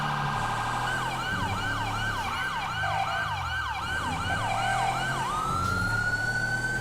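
Wayland police siren on a patrol car in GTA, a rapid repeating wail cycling over a steady engine hum, then switching to a long rising tone at the end.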